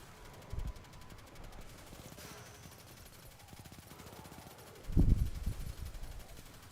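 Gunfire in Destiny 2 with a sniper-like Izanagi's Burden shot: a faint burst of rapid shots early on, then a louder, heavier blast near the end, all under low background game noise.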